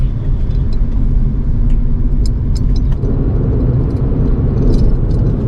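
Heavy trucks rolling along the Mumbai-Pune Expressway near the Bhor Ghat, a steady loud rumble of engines and tyres with no break, traffic passing close by.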